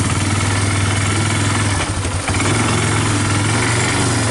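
A 1999 Yamaha Bear Tracker 250 ATV engine runs steadily and loudly close by, with a low, even drone and a brief dip partway through.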